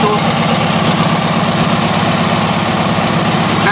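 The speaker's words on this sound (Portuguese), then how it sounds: "Carburadorzinho funcionando." A Volkswagen Fusca 1300 with a working carburetor idles steadily and loudly nearby, a continuous low, even engine rumble with a slight knocking pulse and no talk over it.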